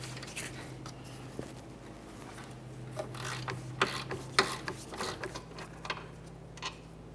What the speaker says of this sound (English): We'll use an 18mm to remove this bolt.